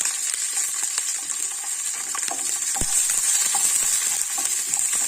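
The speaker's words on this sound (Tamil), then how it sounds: "கடுகு பொரிஞ்சிருச்சு நம்ம அதில் வந்து இந்த பச்சை மிளகாயை இதில் சேர்த்துக்கலாம்" Green chillies fry with popped mustard seeds for a green chilli chutney, a steady close sizzle with scattered pops and crackles and a few stirring scrapes, no speech.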